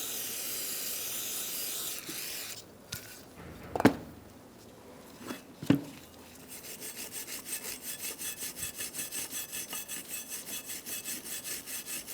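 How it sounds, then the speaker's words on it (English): Brake cleaner sprayed onto the rear brakes of a 2012-2018 Ford Focus, heard as a close, steady aerosol hiss pulsing in short bursts, following a few sharp knocks and clanks of work on the brake parts. "You want to brake clean it off."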